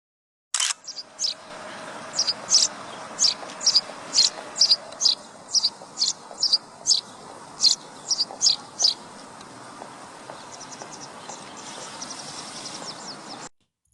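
A sparrow chirps outdoors in a quick series of sharp, bright chirps at a regular pace, fairly close and clear over a faint background, then fading to softer distant twittering.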